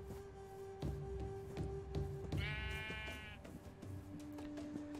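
Sheep bleating in Minecraft, modded with Better Than Wolves: one wavering bleat of about a second stands out over continuous game music and ambient tones.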